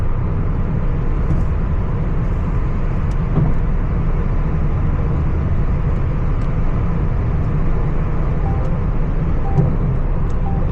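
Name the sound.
car driving at speed on highway through Riyadh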